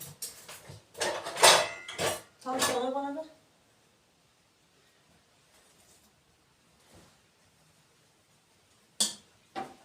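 A few clinks and clatters of metal dessert spoons and dishes, followed by a long stretch of near silence with faint, sparse knocks.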